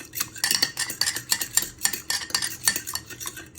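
Eggs being whisked in a bowl for croquette batter, a quick steady rhythm of wire strokes clicking against the bowl, close and fairly loud, with no talking.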